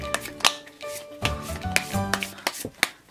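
Dominoes being shuffled by hand on a tabletop, giving irregular clacks and rattling scrapes in quick bursts, close and fairly loud, with no talking.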